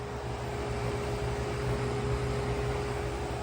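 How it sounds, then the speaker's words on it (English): An aquarium water chiller runs with a steady fridge-like hum and broad airy whoosh, constant and even throughout with a faint tonal drone and no voices. "you're gonna hear your chiller kicking on and off. It's not that loud, and it sounds like a little mini fridge."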